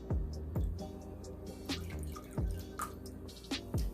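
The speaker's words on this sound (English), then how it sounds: "And then a 1/4 cup of water." About a quarter cup of water splashes over a pork shoulder in a pan before baking, heard as a series of close, distinct drips and splashes with short gaps between them.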